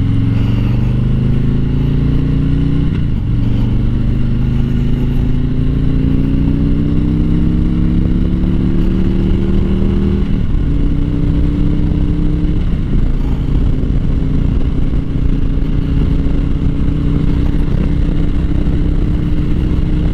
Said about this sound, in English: You think police will pull me over on a Harley doing 90?